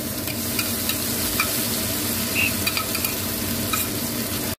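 Onion paste and chopped onion sizzle loudly in hot fish-frying oil with whole dried chillies, stirred with a spatula. A constant close crackle carries occasional scraping strokes, and no one speaks.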